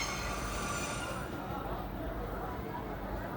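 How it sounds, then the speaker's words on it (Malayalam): A small local mountain train heading to rural villages approaches, its steady rail rumble and wheel noise filling the scene at close range with a constant loud wash; voices can be heard faintly over it. "ഇവിടുത്തെ ഗ്രാമപ്രദേശങ്ങളിലേക്ക് പോകുന്ന ഒരു ട്രെയിനാണ് വരുന്നത്"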